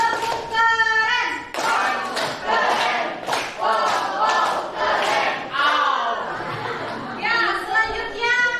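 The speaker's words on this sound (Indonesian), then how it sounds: "Kita berikan tepuk keren." Schoolchildren in a classroom performing a rhythmic group clapping chant, bursts of voices and claps in a patterned sequence, lively and close, with chatter around it.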